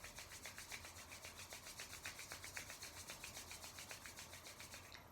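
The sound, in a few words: hands rubbing together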